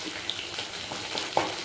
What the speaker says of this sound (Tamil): பக்கத்தில் வெண்டைக்காய் பொரியிற சத்தம்